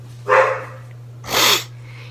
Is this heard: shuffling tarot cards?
no